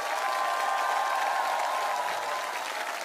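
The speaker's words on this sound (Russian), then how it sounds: "Все аплодисменты вам" Studio audience applauding after a duet on a televised singing contest for performers over sixty, sustained, even clapping heard from a distance with a faint crowd murmur and a tonal trace underneath.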